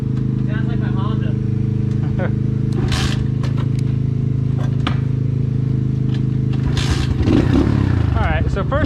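A newly assembled Apollo Z20 pit bike idles steadily on a test ride, a continuous low engine drone with brief scrapes and clatter, while a voice talks over it.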